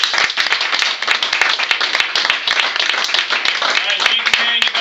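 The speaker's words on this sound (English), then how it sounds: "Thank you very much. Round of applause." A small group claps in a quick, uneven patter, close and fairly loud, with some talk mixed under the clapping.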